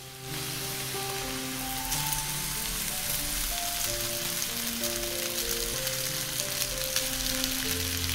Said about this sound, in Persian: حالا نیاز به یه جای کوچیک داریم برای سرخ کردن سوسیس ها